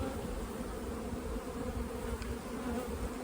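Honey bees buzz steadily around a hive with low numbers in cool weather, a dense continuous hum with no talking.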